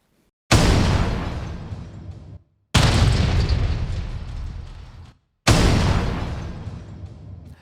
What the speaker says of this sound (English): the explosions were made up of 3 different layers. One random container for the boom effect